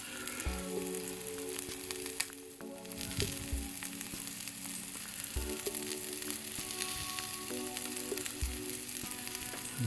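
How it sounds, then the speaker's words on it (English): A taco frying in a hot pan with cheese melting inside gives off a steady, close sizzle that continues unbroken throughout, with occasional faint stirring or scraping noises and no talking. "we're going to let our taco finish cooking here for another minute"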